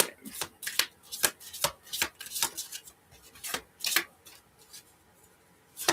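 Cards being shuffled, a steady run of brisk flicking and riffling bursts, close and fairly loud, with no talking.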